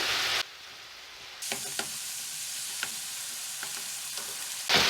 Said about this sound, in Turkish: etin alttan alta rengi değiştikten sonra etimi karıştırıyorum